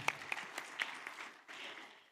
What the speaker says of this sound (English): Ladies and gentlemen, can we give them a bigger round of applause?